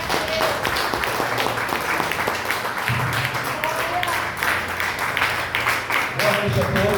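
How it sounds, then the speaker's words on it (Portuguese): Church congregation applauding during an evening service, a continuous wash of clapping under a voice speaking over it, with a low hum beneath. "Aplauda ao Senhor Jesus."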